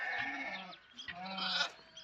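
Lambs bleat twice on a farm, soft and fairly close, with a short quiet gap between the two calls.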